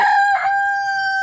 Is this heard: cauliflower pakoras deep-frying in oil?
no